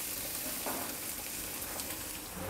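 Curry leaves sizzling in hot oil for a lentil rasam, a steady bright crackling hiss close by and fairly quiet, with no talk.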